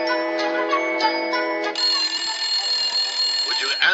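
A telephone rings in quick repeated electronic trills in an indoor scene, loud and close, with the pitch jumping higher partway through before it keeps ringing.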